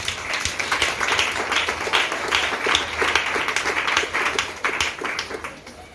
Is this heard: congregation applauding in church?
yes